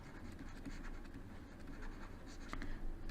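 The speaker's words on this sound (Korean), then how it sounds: "여기에 한번 선생님이 적용해가지고 써볼게요" Chalk or marker scratching across a classroom board as an English teacher writes a sentence, a steady close scraping texture throughout with a few sharper strokes near the end.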